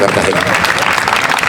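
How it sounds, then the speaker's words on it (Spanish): A crowd applauds in a continuous, loud burst of clapping that fills the whole moment, with a single voice briefly calling out over it. "Démosle un aplauso a Cartagena, por favor."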